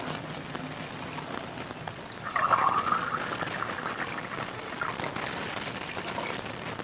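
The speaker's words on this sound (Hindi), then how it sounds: "ये मैंने 3 गिलास पानी के इसमें ऐड कर दिए।" Water poured from glasses into a kadai of mutton with garam masala, a short splashing gush rising suddenly midway and then settling into a quieter bubbling sizzle.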